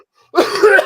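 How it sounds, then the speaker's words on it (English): A single rough cough merging into throat clearing from one person, close and loud, lasting under a second after a moment of silence. "That sounds like a nagging cough"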